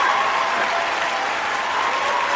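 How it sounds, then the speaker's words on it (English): A round of applause on a radio interview show, a dense continuous wash of clapping at steady loudness throughout, with no voices over it. "Let me give you a round of applause."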